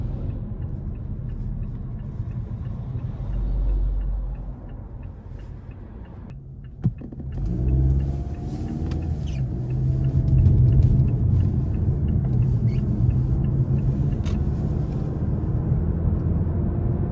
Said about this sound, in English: it's just great to have a 4-cylinder that accelerates like that